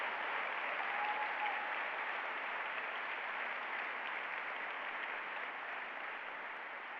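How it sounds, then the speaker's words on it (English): Sustained applause from an audience at a lecture on the Supreme Court, an even, continuous roar of many hands clapping that holds steady for several seconds and slowly eases, heard at a slight distance. "I think that deserves a round of applause."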